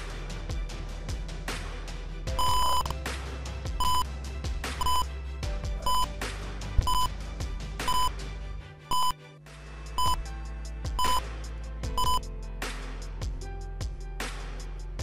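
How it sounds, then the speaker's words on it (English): An electronic buzzer in a door status monitoring system gives a series of short, sharp beeps at a steady rhythm, loud and close, over a low background hum. "this buzzer will generate a beep sound"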